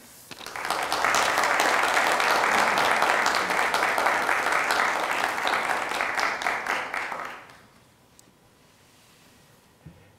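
A lecture audience applauds steadily to welcome a law speaker, a dense sustained wash of clapping lasting several seconds before fading out into quiet room tone.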